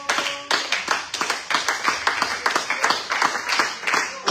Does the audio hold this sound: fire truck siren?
no